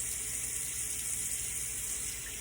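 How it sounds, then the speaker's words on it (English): Water running steadily from a tap to rinse a vintage 1912 Gem Junior safety razor blade, a close, continuous hissing stream with no pauses. "So let me just rinse that blade off."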